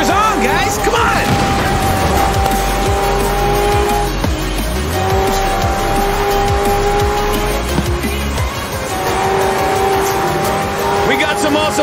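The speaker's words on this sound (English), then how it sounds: "We got some awesome racing trucks out there" Racing cars and trucks in Forza Horizon 4 roar steadily throughout, with sustained engine drones, rising and falling revs and occasional tire squeals.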